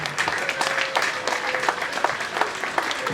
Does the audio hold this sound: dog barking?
no